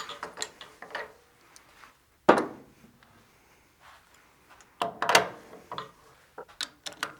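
A wood lathe chuck is removed and swapped for 2.5 inch jaws, with close, irregular metallic clicks, ratcheting turns and a few sharper clunks separated by quiet gaps.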